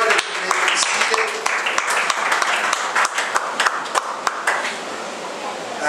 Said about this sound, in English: Clap your hands unto the Lord and you may be seated.